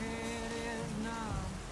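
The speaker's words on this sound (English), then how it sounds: "Which, me personally, I don't mind getting wet by the rain." Rain falls steadily in the life-simulation video game Big Ambitions, a soft continuous hiss with faint tonal music in the background.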